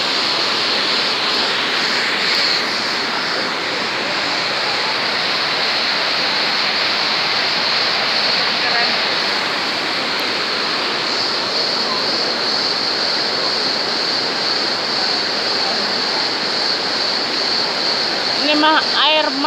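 A water fountain in Turkey splashes and rushes continuously in a steady, broadband wash of falling water that stays loud and even throughout, with faint voices in the background.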